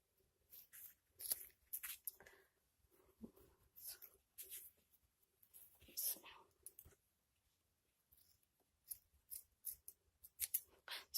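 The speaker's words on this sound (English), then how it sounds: "The scissors have cut so much paper that I don't want to cut fabric." Scissors snip paper in quick, crisp clusters of cuts with short pauses between them, close and quiet in a craft setting where Gelli plate printing is under way.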